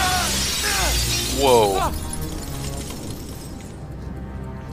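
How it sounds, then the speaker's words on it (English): Glass shattering in the video game Uncharted 3: a bright, broad crash that crumbles into a tinkling spray and fades over a few seconds, with a voice exclaiming briefly over it. "The glass is breaking."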